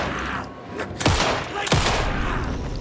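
A shotgun fires at an enemy in the video game Alan Wake 2: two loud, booming blasts about half a second apart over a constant dense game background, with no talking.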